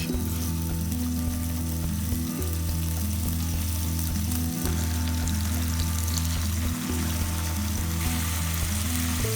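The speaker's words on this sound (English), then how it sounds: "Put pork loin and cook over medium heat." Loud, continuous sizzling of pork loin frying in oil in a frying pan over medium heat, steady crackle with a low electrical hum underneath, no talking.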